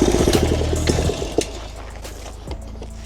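A FRP GMB100 mini bike engine puttering steadily while being ridden, a loud near chugging drone with a brief clatter midway and a slight dip near the end.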